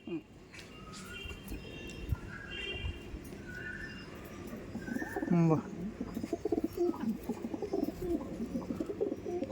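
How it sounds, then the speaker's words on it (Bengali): Madrasi pigeons at a pigeon sale coo in low, soft bursts, with one louder throaty call near the middle, while people talk nearby throughout. "আরেকটা দেখুন আমার ঘরের ধাড়ি পায়রাটা"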